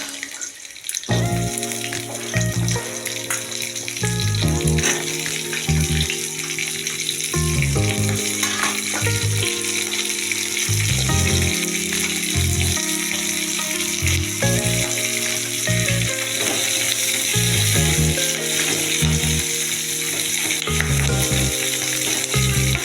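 Vegetables fry and are stirred in a pan beside browned onions while a fish curry is being cooked, making a continuous sizzle beneath loud rhythmic background music, without speech.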